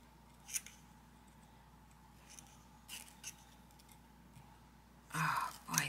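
Scissors snip through paper or fabric while a junk journal is assembled, giving a few quiet scattered clicks and then a louder, closer cutting burst near the end.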